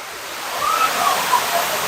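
Water rushes steadily down the Houston Water Wall fountain, a loud broad wash of falling water close by, with a faint voice or two in the background.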